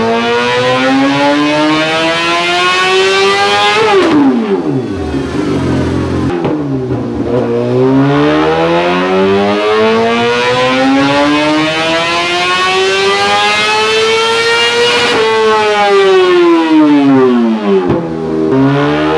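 A 2025 Suzuki GSX-R750 fitted with a full Toce exhaust system revs hard during tuning, its engine note climbing and falling in long sweeping pulls, loud and close, with no voices.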